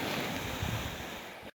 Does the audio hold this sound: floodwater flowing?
yes